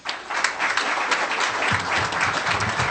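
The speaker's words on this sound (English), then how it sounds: "You can applaud for the candidates, please." Applause from a room at a Minnesota GOP meeting for the national committee candidates, a dense patter of many hands starting abruptly and continuing steadily, with some low voices mixing in during the latter half.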